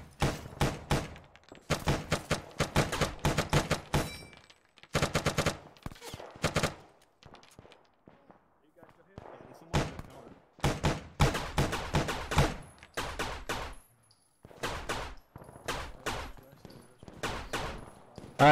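Automatic rifle and machine gun fire in the military shooter Arma 3 comes in repeated close, sharp bursts and fusillades, broken by short silences and a few distant single shots, with occasional voices faintly beneath.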